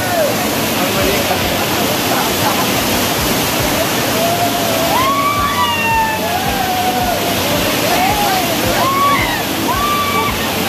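A person bathing in water at Ayodhya during Ram Navami, with a constant loud rush of splashing water and high whistling tones, and voices in the background.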